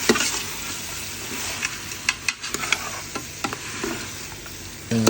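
Masala for a goat head curry, thala kari kulambu, sizzles steadily in a pan while a spoon stirs it with scattered clicks and scrapes, close by and without voices.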